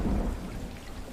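A tropical thunderstorm sound effect plays for a home aquarium ecosystem tank: a steady wash of rain hiss with a low rolling rumble, fairly loud and continuous, no voices.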